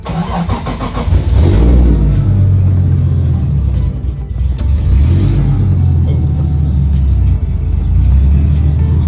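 A Nissan 240 idles in neutral up close, a loud, steady, low engine rumble with a slightly uneven lope, running alone without revving for several seconds.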